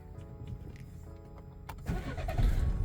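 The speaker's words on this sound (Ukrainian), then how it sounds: "Давайте заведемо машину." A car engine cranks and catches about two seconds in, then settles into a low rumble; the start is fairly quiet, heard after a stretch of faint background hum.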